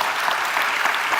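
Summit audience applauding the panel speakers, a brief, even wash of many hands clapping, loud and continuous with no voices over it.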